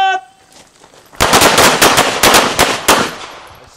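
Gunfire at a combat shooting course in Jackson, Nebraska: a rapid volley of about eight loud, close shots in quick succession, following a brief shouted command.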